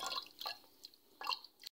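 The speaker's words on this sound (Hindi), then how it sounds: "अब मैं हल्दी पाउडर को पानी में घोल के शामिल करूंगी।" Turmeric powder dissolved in water is poured into a pressure cooker of meat, giving a few short, faint splashes and drips in quick succession, heard alone.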